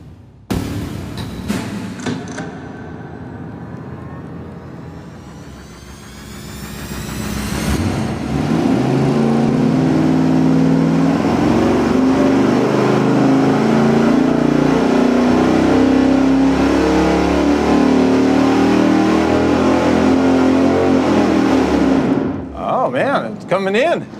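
A V8 engine on an engine dyno during a camshaft timing test: after a quieter stretch with brief voices, it climbs into a loud, sustained pull that holds for about fifteen seconds before cutting off.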